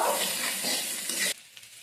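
Chili powder and cumin powder sauté in a hot pan for samosa filling, a loud close sizzle with stirring that cuts off abruptly, leaving faint quiet after it.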